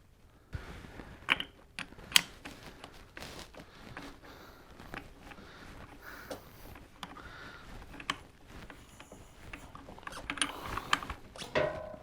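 Nut being tightened onto a Harley-Davidson Sportster stator with a ratchet, a run of quiet close clicks and metallic ratcheting with occasional sharper knocks.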